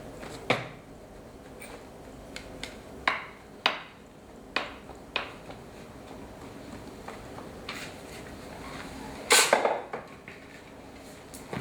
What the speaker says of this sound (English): Again, peg ram round the 4 edges.